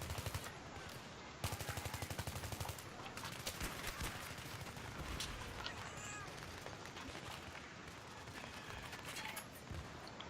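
Gunfire in the video game Battlefield 3 during a team deathmatch on the Canals map, bursts of rapid automatic fire with scattered single shots, fairly faint and continuing throughout.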